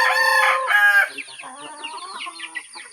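A rooster crows loudly and close by, then several chickens cluck and chatter in a busy, overlapping flurry.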